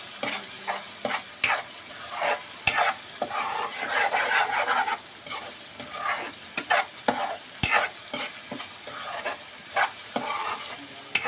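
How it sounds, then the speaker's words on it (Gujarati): Crushed ginger and garlic sizzle steadily in a pan for a fish masala gravy, with repeated scraping stirring strokes and sharp spoon clicks against the pan and no voices. "આપણે કૂટેલું એટલે ખાંડેલું આપણે આદુ લસણ નાખી દઈશું અને એને આપણે હલાવી નાખશું"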